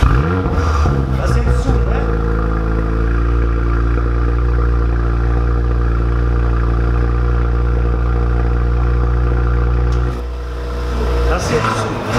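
Warm VW Lupo 1.8T turbo engine fitted with a flap sport exhaust, held at a loud steady high rev for about ten seconds before dropping back, with brief revving at start and end and a voice speaking near the end.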